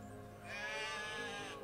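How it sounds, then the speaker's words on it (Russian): Sheep bleat in the wolf-survival video game The Wolf, one sustained wavering bleat of about a second rising over a steady game ambience, fairly close and clear, with no talk. "О, наконец-то овечки, мне как раз две штуки нужно."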